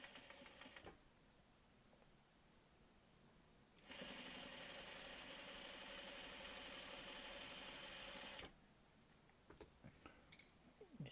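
A sewing machine stitches fabric slowly and steadily, a loud continuous whirring run of about five seconds set between quieter stretches of faint room noise.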